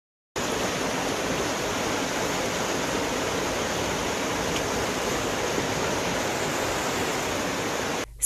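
Floodwater rushes through the streets of Călan in Romania's Strei Valley after heavy rain, a loud, unbroken roar of torrential water that holds constant until it cuts off abruptly.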